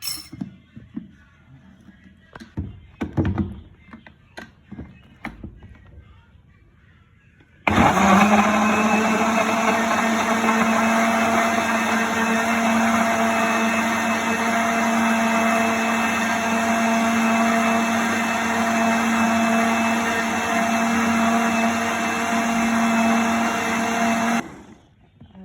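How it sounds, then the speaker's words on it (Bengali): An electric blender whirs loudly and steadily through mango juice sweetened with sugar, starting abruptly after a few soft clinks and handling noises and cutting off near the end, with no talking. "এখন আমি এটাকে ব্লেন্ড করে নেব।"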